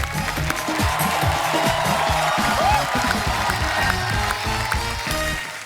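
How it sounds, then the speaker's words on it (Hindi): Studio audience on a Hindi comedy talk show applauding and cheering steadily as guests are welcomed, a dense loud wall of clapping with some whoops, over low stage music throughout. "जोरदार तालियां।"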